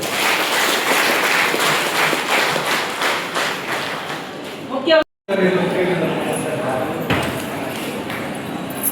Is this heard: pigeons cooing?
no